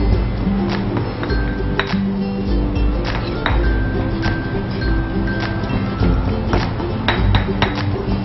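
Lemongrass and pepper pounded finely in a mortar while preparing a Thai dish, heard as a steady run of close, sharp knocks and clinks of the pestle striking, with no voices.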